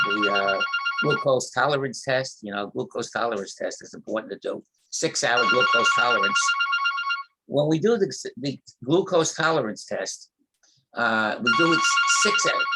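A mobile phone ringtone of repeated electronic tonal bursts sounds in a training room, loud and close, while a man keeps lecturing over it.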